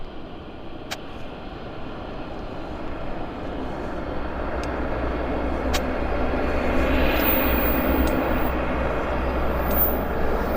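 A CRJ regional jet on approach and landing at Vancouver airport gives a steady, broad engine roar that grows gradually louder and nearer, with no talking.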